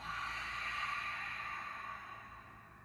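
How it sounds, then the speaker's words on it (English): A long, deep breath pushed out through the mouth during a mindful yoga flow: one steady, airy whoosh, close and soft, slowly fading over about three seconds with no talking. "Exhale through the mouth."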